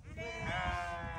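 Sheep bleat on a hillside sheep farm in Nuwakot, Nepal, a continuous close, loud bleat with wavering harmonics lasting about a second, set over low rumbling background noise.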